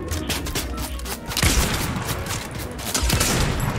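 Sniper rifle shots crack amid a busy Fortnite battle, sharp reports buried in a dense, loud wash of game noise with scattered impacts.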